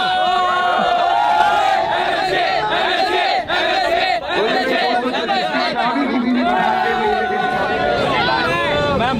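A dense crowd at a KTM Duke 790 Orange Day event, with loud overlapping voices, shouting and excited chatter that stays close and constant throughout.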